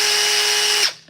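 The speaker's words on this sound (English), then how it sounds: "Here's the DeWalt driver," A DeWalt cordless driver runs at a steady high whine for close to a second, loud and alone, then cuts off and winds down quickly into near silence.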